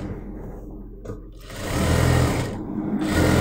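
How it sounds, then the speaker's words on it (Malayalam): A sewing machine stitches the hem along the bottom of heavy Patiala salwar pants, a steady close whirring run that starts softer and grows louder and denser, ending abruptly. "രണ്ട് പാൻറിന്റെയും അടിവശം ഇതുപോലെ സ്റ്റിച്ച് ചെയ്തെടുത്തു"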